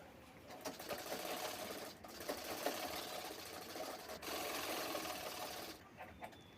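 Sewing machine running steadily at close range, stitching the side seams of a half princess-cut blouse, a continuous rapid mechanical whir with two brief pauses.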